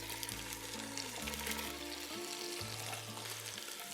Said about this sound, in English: We're gonna get this meat in. We have 13 steaks here, so I'm gonna do it in 2 batches. You can hear that sizzle.